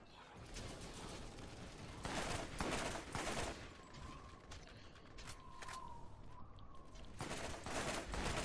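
Gunfire in the shooter game Borderlands: repeated bursts of rapid shots and scattered single cracks over several seconds, fairly quiet and mixed with clatter and effects, with no talk.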